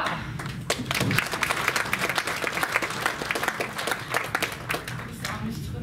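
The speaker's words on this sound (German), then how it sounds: "Ein Applaus für dich" Audience applause at a hypnosis and NLP congress: steady, crisp clapping from a room of people, held at an even level across the whole stretch.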